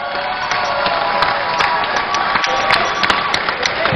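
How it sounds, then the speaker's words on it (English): Steady, dense applause fills a hall for an award winner at an induction ceremony for newly admitted architects, close and continuous with a faint crowd murmur underneath. "A round of applause for her."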